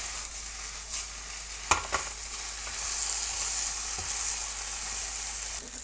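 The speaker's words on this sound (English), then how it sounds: "We're gonna put this on high heat now so that fried rice gets that nice nice color." Gochujang fried rice with steak frying on high heat, a steady hissing sizzle with occasional stirring clatters and knocks, rising to a fuller, louder sizzle midway.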